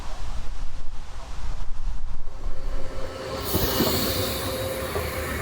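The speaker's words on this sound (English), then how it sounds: "Yet another train from Lillehammer to Oslo, using a class 74 train, passes the old station at Minnesund." A class 74 passenger train from Lillehammer to Oslo rumbles and hisses past the old Minnesund station at close range, a steady roar with a high metallic squeal as the cars go by.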